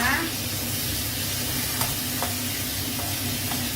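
Pork liver stir-fried over high heat gives a dense, continuous sizzle close to the pan, broken by a few light scraping ticks from the spatula.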